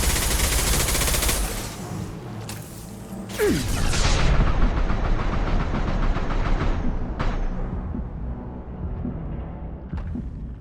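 Heavy gunfire from Mass Effect 2 fills the scene, with dense sustained bursts and booming impacts that stay loud throughout, easing slightly in the final seconds, with no talking.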